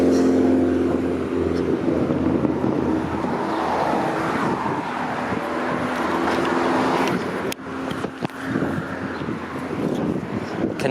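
Cars and other road traffic roll past steadily along Lansdowne Avenue in Toronto's Wallace Emerson neighbourhood, a loud continuous roadway rumble with wind buffeting and a few sharper bumps near the end.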